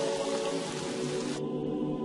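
Heavy rain pours down in a dense, steady hiss that fills the whole clip at constant loudness, a continuous downpour with no pauses and no voices.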